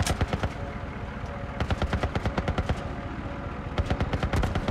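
Gunfire in the video game The Last of Us comes in rapid clusters of sharp shots, with quick bursts separated by brief pauses and no talk over it.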